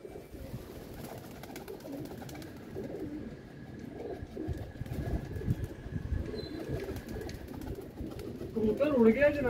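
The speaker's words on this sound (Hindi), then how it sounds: "कबूतर उड़ गया जनाब और उड़ के उससे बैठा ही नहीं गया" Pigeon startled while being caught, wings flapping as it flies off, with soft rustling and handling noises and a louder burst of flapping near the end; someone talks throughout.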